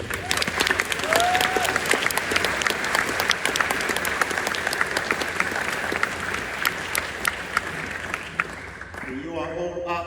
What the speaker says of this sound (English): please give yourselves a round of applause for your achievements